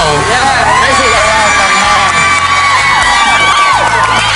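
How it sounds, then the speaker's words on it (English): A large hometown crowd cheers and whoops loudly for a welcome home on Long Island, with children shouting and crowd babble in a steady, dense roar throughout. "all people from the hometown show up to cheer him on"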